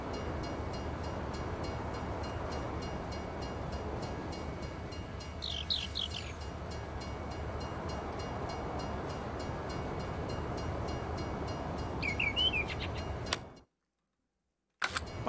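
A train in the Farming Simulator 19 video game rumbles steadily at a low, faint level, with a couple of brief higher chirps over it. The sound cuts out near the end, then returns briefly.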